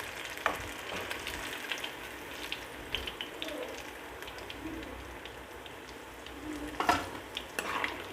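Chicken pakoda pieces fry in hot oil with a steady, rain-like crackling sizzle and occasional louder pops and spoon clinks, fairly quiet and close, with no talking.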